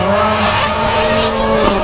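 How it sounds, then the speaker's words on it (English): A Ford Fiesta rallycross car slides hard through a corner, its engine roaring loud and steady while the tires squeal and skid continuously throughout. "Coming back through uh, Cyclone, uh, Ken throwing the uh, Fiesta"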